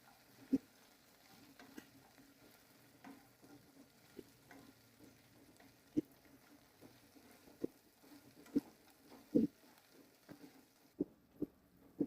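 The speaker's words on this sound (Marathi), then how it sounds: "यामध्ये असे मंचुरियन टाकून घेऊयात. त्याला 2 मिनिटं मिक्स करून घेऊन" Veg Manchurian balls being stirred into sauce in a pan, with a soft sizzle underneath and a steady run of light, clear spoon taps and scrapes, fairly quiet and close.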